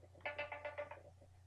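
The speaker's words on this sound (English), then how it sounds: "I just had an alarm on my phone." A phone alarm going off, a short melodic ringtone of several quick bright notes in a row, moderately close, fading out at the end.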